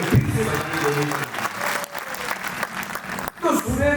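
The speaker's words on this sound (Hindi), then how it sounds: "इनको तालियों के गड़गड़ाहट से हमें फिर से बधाई देनी चाहिए।" Applause from an audience at a Sanatan Dharma religious assembly and discourse in Gandhinagar, a loud sustained patter of clapping with a voice heard over it and a fresh burst near the end.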